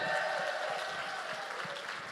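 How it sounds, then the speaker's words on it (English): An audience applauds, a dense, steady wash of clapping that fills the whole moment at moderate distance. "Round of applause, absolutely."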